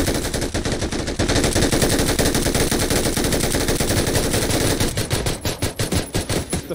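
Sustained automatic gunfire is aimed at a zombie in the PUBG video game, a loud, rapid rattle of shots that runs almost continuously before breaking into separate bursts near the end.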